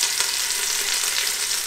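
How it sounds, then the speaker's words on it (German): Veal sears in a hot pan for vitello tonnato, a steady, dense, loud sizzle of frying meat heard close up with no talking. "Das Vitello müssen wir schön anbraten."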